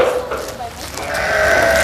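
A goat or sheep being hand-fed bread at a farm near Sam Phran bleats close by in short calls, while someone talks over it.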